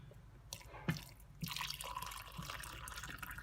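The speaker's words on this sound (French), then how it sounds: "j'ai juste à le mettre dans la tasse et ensuite je vais le remplir d'eau chaude." Hot water poured into a cup gives a few soft drips, then a faint gurgling pour that rises and continues quietly, close and low in level, with no speech.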